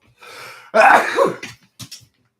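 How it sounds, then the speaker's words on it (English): A nose being blown hard and close: a long, wet, honking blast followed by a few shorter snorts and sniffs. "Excuse me, I got blow my nose."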